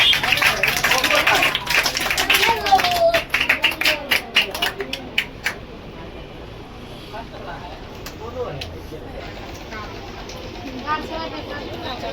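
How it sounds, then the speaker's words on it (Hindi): Audience clapping at a school birthday celebration and medal ceremony as a prize winner is called to the stage, dense rapid claps for a few seconds, then fading into quieter room noise with voices. "मारो ताली यार।"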